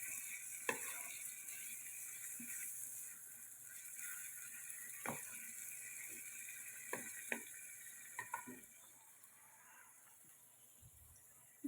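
Chicken liver fries in a pan over a low gas flame, giving a faint, steady sizzle broken by scattered sharp ticks and pops, with no talking.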